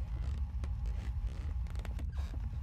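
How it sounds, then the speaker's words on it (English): Rocking chair in the horror video game Obsideo creaks in irregular rubbing groans over a steady low ambient hum, fairly quiet throughout. "That's a rocking chair, isn't it?"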